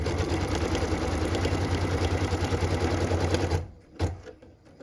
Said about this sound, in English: What I'm stitching now is the tack down line for piece number 5